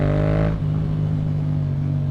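A Yamaha MT-07 motorcycle fitted with a Yoshimura exhaust rises in engine pitch under a quick throttle blip on a bumpy twisty road, then settles into a steady loud, close drone.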